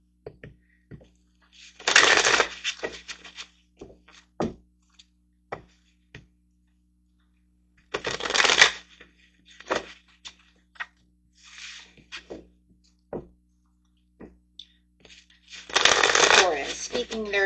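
Tarot cards being shuffled for a reading, with three longer riffling bursts spaced apart and scattered light card taps and clicks in between, close and clear in a quiet room.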